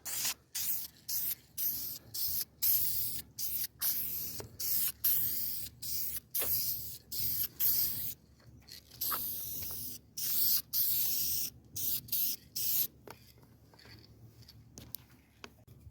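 Repeated bursts of clear vinyl and fabric aerosol coating sprayed onto a plastic truck bed cover hiss in short, evenly spaced blasts, close and fairly loud, continuing steadily with brief pauses between each spray.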